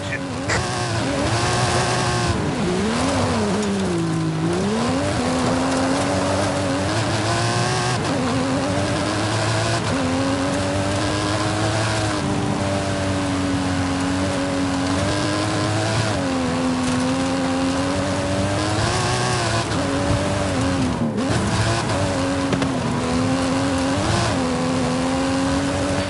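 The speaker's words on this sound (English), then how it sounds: "Hammer it up the hill, kid. That stunt vehicle is a Mike Steel Special." A stunt car with a custom engine and suspension is driven hard uphill in Forza Horizon 5, its engine loud and continuous, rising and falling in pitch as it revs and shifts over a long stretch.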